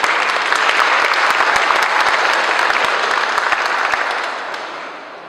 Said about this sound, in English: So we want to give them a round of applause for their support.